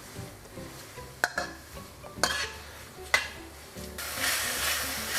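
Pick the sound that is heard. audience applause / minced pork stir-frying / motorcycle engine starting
minced pork stir-frying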